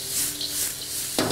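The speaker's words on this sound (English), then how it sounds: "Let's be fancy with the wok here." Food sizzles and hisses steadily in a hot pan, with a brief scraping toss near the end, close and loud.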